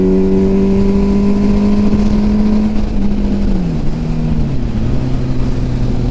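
A Honda CB750 motorcycle's engine drones loud and steady during an acceleration pull around 4,500 RPM, its pitch easing down slightly partway through as the run continues, with no talking.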